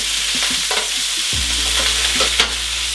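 Chicken pieces frying in a pan on a medium flame after a cognac flambé, giving a steady close sizzle broken by a few sharp stirring or turning clatters.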